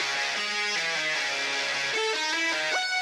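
A bright, layered synthesizer melody recreated in FL Studio, built from three stacked plugins, with a distorted edge, stepping through short sustained notes in a steady phrase, loud and alone.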